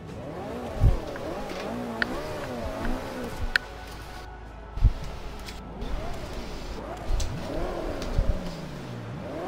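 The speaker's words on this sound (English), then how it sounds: "Start the car to begin the race." Race car engines in Forza Motorsport 5 rev and rise in repeated sweeping pitch climbs, with several sharp knocks and a few brief tones over a steady motor drone.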